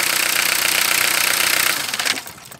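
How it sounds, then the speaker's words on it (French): A 1993 Citroën ZX Volcane 1.9 turbo-diesel engine knocks in a steady rapid rhythm, then sputters and dies away within a couple of seconds as it is shut off manually. "ça fait arrêter le moteur"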